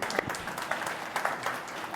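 An audience applauds at a corporate executive panel, a short burst of scattered clapping that swells and fades in soft waves, moderately near, with no speech over it.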